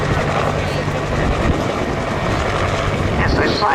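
A loud, close helicopter at an air show roars continuously, rotor and engine noise filling the whole stretch without a break.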